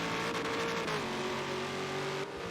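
Sport touring race car engine at Suzuka in a sim racing game, a loud sustained high-revving drone that shifts pitch as it downshifts and fades slightly at the end.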